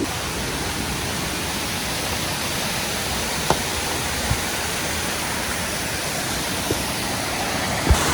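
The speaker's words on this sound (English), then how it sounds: "we're approaching the waterfalls right now" Steady, broadband roar of a hidden waterfall in Kingston, Jamaica, loud and continuous throughout with only a few faint clicks and no talking.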